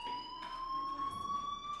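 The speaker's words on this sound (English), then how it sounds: "do you hear that fire alarm?" A fire alarm sounds in the game Life is Strange, a steady, loud, high electronic tone held without a break, with faint background noise behind it and no voices.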